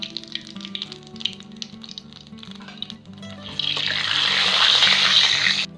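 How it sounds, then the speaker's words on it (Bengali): Kalonji seeds drop into hot oil during Bengali village cooking, and after a few quiet seconds a loud, steady hissing sizzle rises up close and continues to the end. "এই যে তেলটা গরম হয়ে গেছে, আমি কালি জিরা দিয়ে দেব সাজনার জন্য।"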